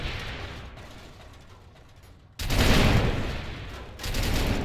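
Energy weapons firing in the People Playground game, a sudden loud burst of crackling, rapid gunfire-like blasts that cuts in after a quieter stretch, pauses briefly, then resumes.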